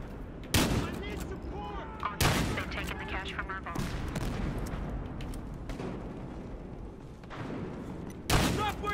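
A shotgun firing slug rounds in Battlefield Hardline lets off three heavy, booming blasts spaced several seconds apart, with game noise and someone talking in between.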